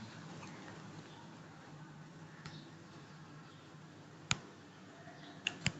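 A computer mouse clicks while video editing software is in use, a few sharp, isolated clicks spaced apart over a quiet room background.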